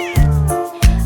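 A cat meows twice in a children's song, two loud, close, drawn-out calls separated by a short pause, with no singing over them.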